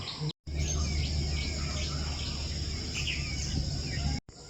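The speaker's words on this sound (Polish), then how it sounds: "Nie wiem, czy to słyszycie, ale tu jest tyle ptaków." Many birds chirp and call in the background against a steady buzzing drone of insects, an outdoor morning chorus in Tangalle, Sri Lanka.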